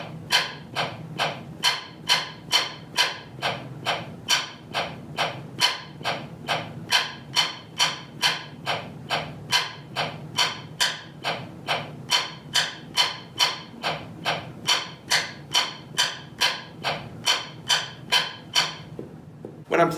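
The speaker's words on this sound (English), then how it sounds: "taking one stick and putting it on the pad and putting one stick on the rim" Two drumsticks on a practice pad, one stick striking the pad and the other the rim, play a steady, evenly spaced run of sharp clicks and taps for about twenty seconds, close and clear with no talking.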